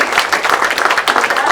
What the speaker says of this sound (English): So I just want to give a round of applause to all these guys.